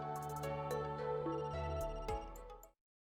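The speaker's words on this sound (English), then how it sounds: "That's the phone. Maybe Dad's calling." A telephone rings in the video game Another Code, a melodic electronic ringtone playing a bright repeating tune for nearly three seconds before cutting off abruptly into silence.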